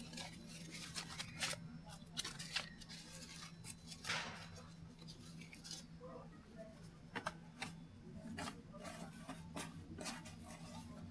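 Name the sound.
scissors cutting white construction paper into pieces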